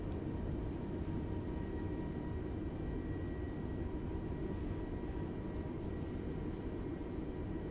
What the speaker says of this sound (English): It's reverse thrust.